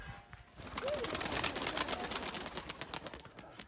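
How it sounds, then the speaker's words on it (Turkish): Pigeons outside a village house give a brief soft coo, then a burst of broadband flapping as the flock takes off, fairly close and loud with no talk over it. "Uçurduk güvercinleri."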